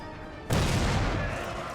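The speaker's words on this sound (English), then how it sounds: "Oh, the cannon's going for it." A cannon artillery volley in Napoleon Total War erupts suddenly, a loud booming blast with a long rumbling tail that fades only slightly.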